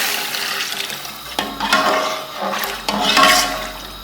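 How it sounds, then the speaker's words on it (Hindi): Two glasses of hot water tipped into a pot of frying chickpea pulao, heard as steady close splashing and gurgling in a few separate pours, each rising then fading into a watery hiss. "और ये 2 गिलास हमारा पानी है गर्म किया,"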